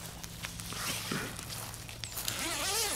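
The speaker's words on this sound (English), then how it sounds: "It's got these really heavy duty zippers, which is very important." A heavy-duty zipper on the door of a Gazelle T4 tent is pulled in quick rasping runs, close and soft, with some rustling of fabric and faint voices nearby.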